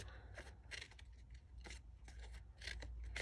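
Scissors snip through the petals of a paper pineapple flower in a series of quick, quiet cuts, about eight or nine short crisp clicks spaced unevenly at close range with no talking.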